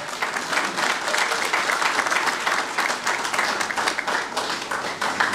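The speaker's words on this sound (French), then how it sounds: "Nous applaudissons." A crowd at a political party rally applauds steadily for several seconds, dense and fairly loud clapping that holds even before tapering slightly at the end.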